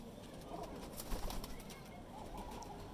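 Soft, low coos of Salara pigeons and baby flying pigeons murmur in the background among faint rustling and small clicks, quiet and indistinct.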